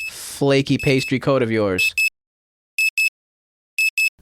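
An alarm sounds in a kitchen: three pairs of sharp, high beeps spaced evenly after a burst of talk, loud and clean against silence.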